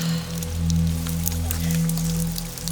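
Steady rain falls outside in a Turkish period drama scene, a dense close hiss of drops running evenly throughout beneath low sustained music, with no voices.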